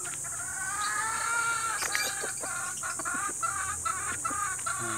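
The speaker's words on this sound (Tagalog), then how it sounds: "Meron palang ganitong manok." Chickens cluck repeatedly close by, with a rooster-like call rising among them over steady farmyard background noise.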